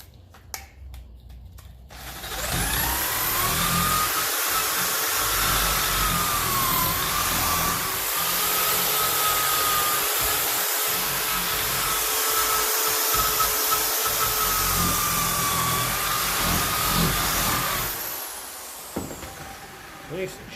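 A part of a 1954 Ferguson TE20 diesel tractor is polished with a power tool, giving a steady, loud whirring grind that runs unbroken for about fifteen seconds before stopping, with brief handling noises at either end.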